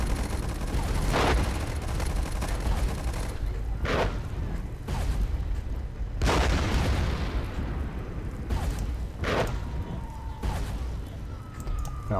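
Mortar and artillery fire in the World War I trench game Warfare 1917, heavy booms and distant gunfire bursting repeatedly over a constant battlefield rumble.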